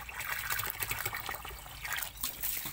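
Termite mushrooms are rinsed by hand in water, giving close splashing, sloshing and trickling sounds in soft irregular bursts, with no speech.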